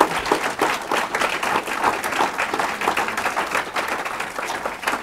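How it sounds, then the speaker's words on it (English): An audience at a global warming debate event hosted by the Heartland Institute applauds steadily, a dense, even wash of many hands clapping that holds for several seconds without a break. "And how about a round of applause for the staff of the Heartland Institute to help bring this room together."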